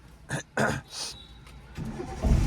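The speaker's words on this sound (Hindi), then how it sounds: "अब कार का इंजन ऑन करो" A car engine is started during a learner driving lesson. After some brief thumps and rustles, a low engine crank rises and catches into a rumbling idle toward the end.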